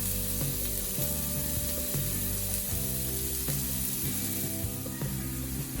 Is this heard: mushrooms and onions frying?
yes